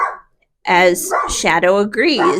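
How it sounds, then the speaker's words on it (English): A large pet dog barks loudly indoors, a few sharp close barks right after a brief pause, overlapping a person's speech. "If you hear him barking, I'm sorry."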